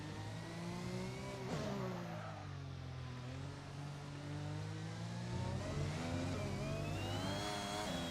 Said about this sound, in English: when I accelerate on the curb